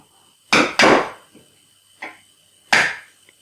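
A chisel strikes wood while cutting a rebate joint by hand, four sharp chopping knocks in an uneven rhythm, close and distinct against a quiet background.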